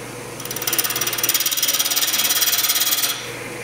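A spindle gouge scrapes a small wooden birdhouse ornament spinning on a wood lathe, a rapid, rhythmic chattering rasp that starts abruptly, holds loud and close for about two and a half seconds, then stops.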